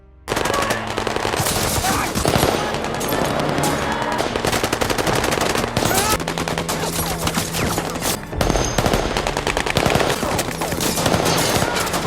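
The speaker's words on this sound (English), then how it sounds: "the driver engages in gunfire with the Taliban positioned across the canyon, approximately a quarter-mile distant" Sustained machine-gun fire in a film battle across a canyon, with a driver trading bursts against Taliban fighters about a quarter mile away; loud, dense overlapping volleys run continuously from start to finish.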